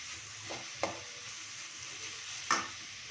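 Carrot and pumpkin halwa with saffron is stirred in a pan over a soft, steady sizzle, with two sharp spoon scrapes standing out; no voices.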